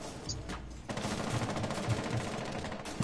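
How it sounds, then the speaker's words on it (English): Sustained rapid automatic gunfire in the video game Rainbow Six Siege, a dense continuous burst of shots lasting a few seconds, loud and steady after a brief pause. "they're shooting from somewhere over there"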